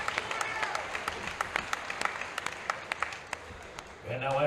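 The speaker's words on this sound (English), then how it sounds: "how about a round of applause for one hell of an opening championship bout?" Crowd at a mixed martial arts event applauding after a 125 lb championship bout, a sustained wash of clapping with sharp individual claps standing out, before a voice begins speaking at the end.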